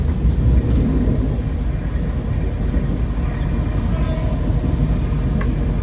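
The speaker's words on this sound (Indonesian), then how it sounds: "Kita melintas langsung di stasiun Lempuyangan." Heard from inside the KA Batavia economy New Generation train, a steady loud low rumble and rattle of the carriage running through Lempuyangan station without stopping, with faint squeaks and clanks above the continuous roar.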